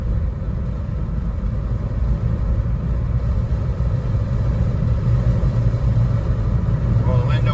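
Steady rumble of a Jeep JK's engine and road noise while driving, loud and continuous cabin drone with no speech.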